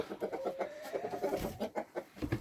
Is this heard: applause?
no